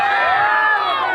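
Crowd at a Bongaigaon YouTuber meetup on Nak Kati hill in Assam cheering and clapping, a dense, continuous roar of many voices close by and loud, with no individual words.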